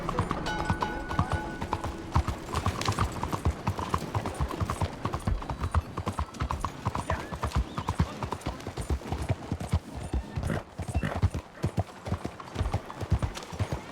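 Rhythmic clip-clop of horse hooves trotting at a steady pace in the video game Red Dead Redemption 2, close and continuous, with faint background ambience.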